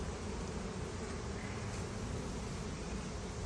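Honey bees swarm around a newly installed nuc box beehive colony, a dense, constant buzzing hum filling the air close up and unbroken throughout.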